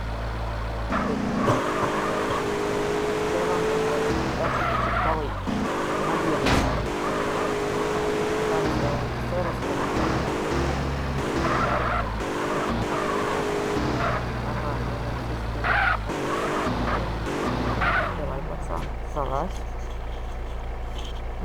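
Video game car engine revving and driving with tire skids, a steady motor drone with shifting pitch while someone talks over it throughout.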